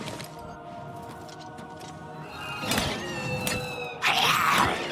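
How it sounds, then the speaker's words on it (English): A ghost in the video game Oblivion Remastered gives off a strange, shrill squealing cry like a crazed bird or rat, rising in bursts with a sharp thump midway and a louder wavering screech near the end, with no talking. "This is the weirdest sound for a ghost."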